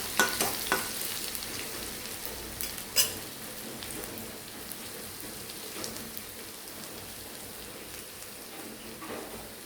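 Ginger and garlic sizzle in hot oil while gooseberry pickle is being made, a steady crackling hiss with a few sharp stirring clatters near the start, nearby and fairly quiet with no talking.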